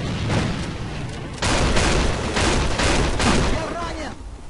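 A Striker 12 shotgun fires repeatedly in the AVA shooter game, loud booming blasts in quick succession with reverberating tails, followed by reload clicks.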